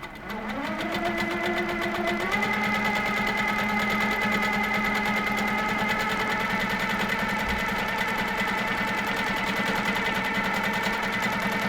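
A Handi Quilter quilting machine hums steadily as it micro-stitches, a loud, continuous mechanical whir with a fast rhythmic needle pulse that never breaks, close up and alone.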